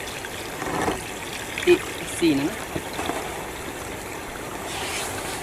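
Leftover water drains out of an upturned drum used in oyster mushroom cultivation, a soft, steady trickle and splash heard under a person's speech.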